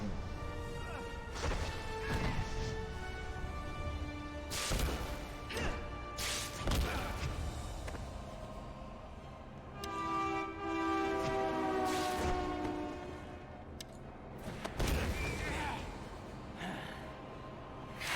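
An enemy being smashed against a passing train in the Spider-Man 3 video game: continuous rumbling train noise with repeated sharp crashing impacts and horn-like tones over about eighteen seconds.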